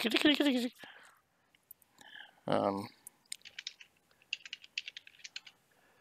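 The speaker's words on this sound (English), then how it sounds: "Now, I hear you typing away." Light, quick clicks of keyboard typing come in short bursts, quiet and close, with a brief voice near the start.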